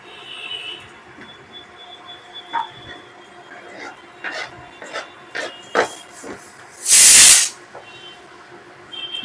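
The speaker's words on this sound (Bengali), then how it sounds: "ডালে আমার একটা সিটি হয়ে গেছে" A pressure cooker holding dal lets off one loud, hissing whistle in a kitchen, following quiet clinks and small handling noises.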